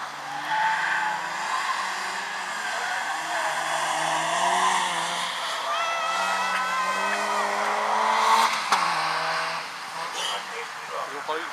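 Rally race cars lap a timed slalom course, their engines rising and falling with tire squeal and skidding; a commentator talks continuously over them.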